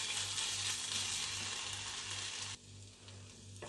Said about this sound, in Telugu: కాస్త అల్లం వెల్లుల్లి పేస్ట్ వేసి పచ్చివాసన పోయే వరకు బాగా ఫ్రై